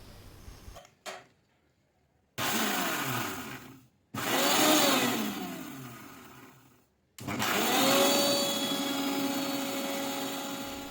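An electric mixer grinder pulverises dried moringa (oleifera) leaves into powder in a small dry chutney jar: a short pulse, then three loud, whirring bursts of grinding with gaps of silence between them, the motor revving up and sustaining near the microphone.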